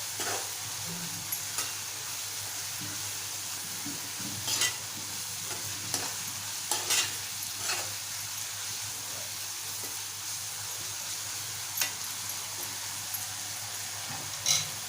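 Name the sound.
stirring sprouted moong with Kashmiri chilli powder and coriander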